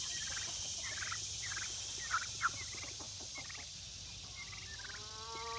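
Turkeys gobbling outdoors at a distance, a few faint rattling gobbles over a steady background hiss, with no one talking.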